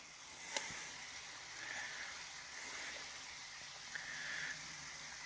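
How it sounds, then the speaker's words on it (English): A waterfall and babbling brook flow in a steady, broad rush of water that continues throughout, with a few faint clicks and slight swells in the wash. "Love the waterfall."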